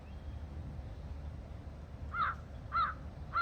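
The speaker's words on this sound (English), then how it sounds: "Just birds." Crows caw outdoors along a long path on the grounds of the old Danvers State Hospital, three loud harsh calls spaced evenly near the end over a low steady background hum.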